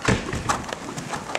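A horse trots during a riding lesson, its hoofbeats landing in a steady two-beat clip-clop on soft ground at moderate distance, with faint background noise.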